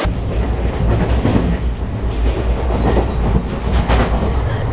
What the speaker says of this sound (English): So this is our train from